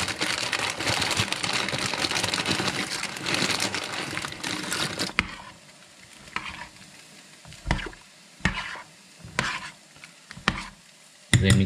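Corn-flour spiral pasta goes into a pot of boiling water: a dense, steady hiss of stirring and frying for about five seconds, then quieter stretches broken by several short scraping, splashing bursts.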